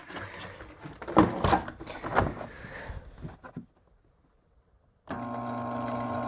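The electric motor of an automatic roto tiller, powered through an extension cord, starts up with a steady whirring hum and keeps running close by, after a few seconds of knocking and handling sounds and a brief quiet pause.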